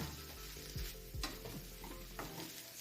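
Kielbasa fries quietly in a pan for omelets, a soft continuous sizzle broken by a few low thuds and clinks as pieces are moved.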